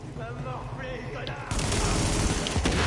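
Rapid automatic gunfire from a weapon in the video game The Division, a dense burst of shots starting partway through and continuing loud, following a stretch of background game audio.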